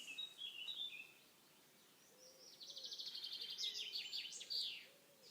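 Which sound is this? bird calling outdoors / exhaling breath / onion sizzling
bird calling outdoors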